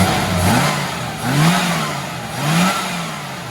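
A car engine revs after a carburettor needle tune-up, swelling and falling back three times over a steady running drone, loud and close.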